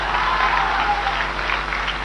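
A crowd at a BJP political rally in Begusarai, Bihar claps in a dense, continuous burst of applause, loud and steady for the whole moment with no voices standing out.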